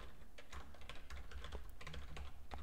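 A computer keyboard clatters with quick, steady typing while a Lua script is written, close and continuous with no voices.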